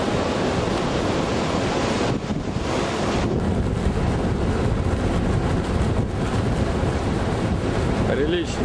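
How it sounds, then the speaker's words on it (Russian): Strong wind blasts a mountain camp, a loud, continuous roar of wind buffeting the microphone that barely eases for the whole stretch. "Прилично тут дует."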